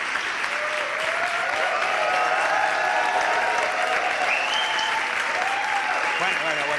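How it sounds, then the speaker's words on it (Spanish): Sustained audience applause for a guest at a live talk show taping, a full steady wash of clapping while a voice talks over it. "Y que siga el aplauso para Andrés Llena aquí en Escampar la Boira"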